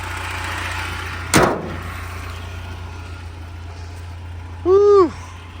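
An old revived car engine idles with a steady low drone, broken early by one sharp bang and, near the end, a short whooping voice cry.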